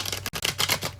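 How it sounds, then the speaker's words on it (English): A tarot card deck being split and riffled by hand, giving a rapid run of close, crisp card flutters with one brief pause partway through, and no voices. "as I split the deck for your pre-shuffle here"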